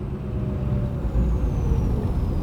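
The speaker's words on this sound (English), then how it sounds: "that's the sound of the different turbine." Car turbocharger, a stock turbo rebuilt with its aluminum parts swapped for steel, with the turbine fitted: a steady, fairly loud engine rumble with a thin high whistle sliding across it throughout.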